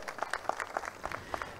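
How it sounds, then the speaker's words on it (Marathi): Applause from an audience at an outdoor election campaign rally in a ground facing a Shani temple, a short burst of quick, distant-sounding claps, fairly faint. "त्यामुळे जोरदार तुमच्यासाठी एक टाळ्या वाजवा."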